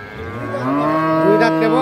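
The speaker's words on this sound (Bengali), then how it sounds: "এখানে একটা গাভী দেখছি" A Holstein Friesian cow at a cattle market lets out one loud, close moo that swells and rises in pitch, with no talking over it.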